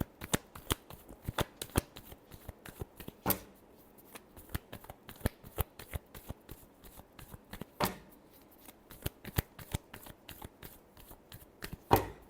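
Tarot cards shuffled by hand in rapid bursts of crisp riffling and tapping, close and clear with short pauses between rounds.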